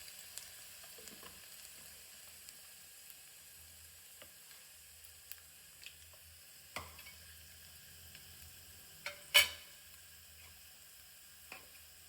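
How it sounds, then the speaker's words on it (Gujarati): Asafoetida drops into a sizzling garlic-and-pepper oil tempering for papdi curry. A faint, even fry hiss runs throughout, broken by a few sharp clicks and one louder clatter near the end. "અને એની સાથે જ આપણે હિંગ પણ એડ કરવાની રહેશે."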